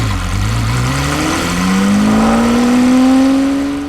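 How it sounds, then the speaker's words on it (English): A 1991 Jaguar XJR-15 race-bred engine, mounted just behind the cockpit, starts up and climbs through a rising rev, its tone sweeping steadily upward and swelling loud and close. "you flick a starter button, it fires up. And immediately you're enveloped in sound and vibrations from the engine"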